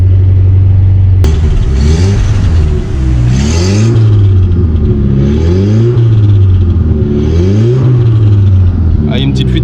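A 350 hp car engine with a small exhaust leak revs up and down repeatedly in loud, close, rising and falling sweeps, with a voice talking over it.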